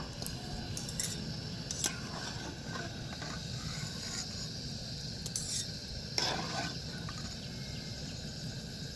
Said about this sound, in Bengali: বাকি মিষ্টিটাও লাল লাল করে ভেজে নিয়েছি এবার আমি এগুলোকেও উঠিয়ে নেব